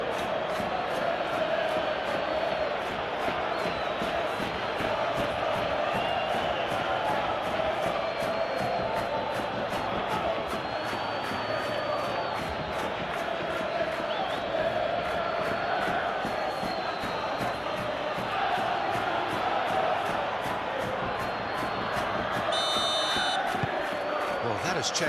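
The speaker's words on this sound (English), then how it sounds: "The crowd are calling for this to be put to bed." A stadium crowd roars and chants steadily in a PES 21 football video game simulation of Benfica against Real Madrid in the Champions League, a continuous dense wash of cheering under a commentator's talk.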